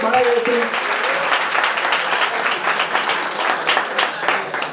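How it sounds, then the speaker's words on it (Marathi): A college audience at a road safety awareness event claps loudly and continuously, a thick close crowd of hands that holds steady throughout, with a brief voice audible at the very start. "जोरदार टाळ्या झाल्या पाहिजे"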